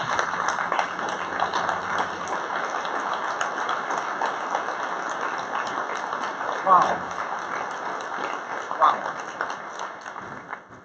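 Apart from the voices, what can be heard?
round of applause at awards event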